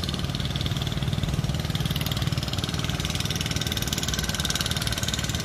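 A Kubota hand tractor engine runs steadily in a field during harvest, a continuous mid-pitched droning rumble held at an even level throughout, with no voices over it.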